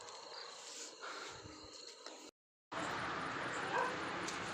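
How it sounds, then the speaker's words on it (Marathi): Dogs bark and yip in an Indian village, fairly far off and mixed with outdoor noise, in a short clip that drops out briefly in the middle before the sound returns. "लागले कुत्रे बोकायला."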